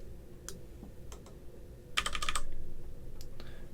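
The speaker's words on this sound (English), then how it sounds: "I roll 3 dice." Three dice clatter across a hard surface for a tabletop wargame, a short cluster of sharp rattling clicks over low room noise, preceded by a few isolated taps.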